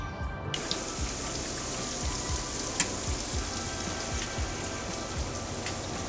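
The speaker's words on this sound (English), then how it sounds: "Feel like making some fried shrimp." Fried shrimp sizzling and crackling in a pan, a steady dense hiss with scattered pops throughout, close and moderately loud, with no talking.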